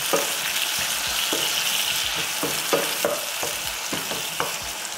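Tomatoes cook in a frying pan for menemen, a continuous close sizzle with a regular run of scraping stir strokes roughly every half second, and no voices.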